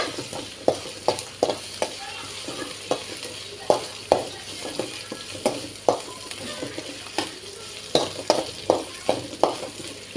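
Onions, green chillies and curry leaves fry in oil for a chickpea dish, a constant close sizzle punctuated by regular scraping stirs of a spatula against the pan, roughly one every second.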